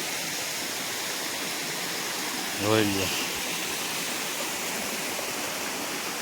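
Water gushes out from under a big rock in a stream, a continuous rushing flow heard throughout, with a short spoken phrase briefly rising above it midway.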